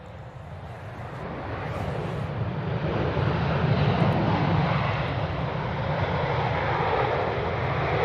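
An Airbus A330 airliner lands at Manchester Airport, its engine rumble swelling gradually into a steady low roar, with faint wind noise.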